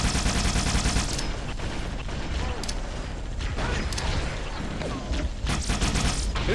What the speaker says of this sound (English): Who's shooting like that?